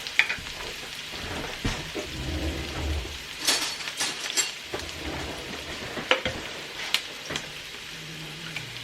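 Garlic sautéing in a hot pan, with a steady crackling sizzle, occasional sharper pops and clinks of a utensil stirring, heard close and without talk.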